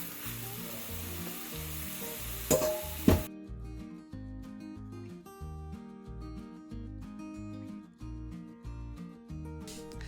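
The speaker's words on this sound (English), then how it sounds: "Listen at it sizzle." Ground beef sizzles loudly in a hot cast iron pan, then the frying fades to a quieter crackle for the rest of the stretch.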